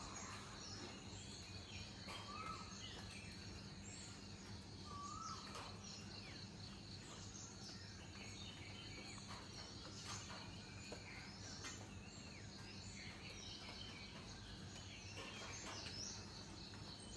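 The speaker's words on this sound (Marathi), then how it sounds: "तुम्ही फक्त पक्ष्यांचे आवाज ऐका" Birds chirp now and then in a quiet, foggy village morning, with a steady high insect or cricket drone underneath and no voices.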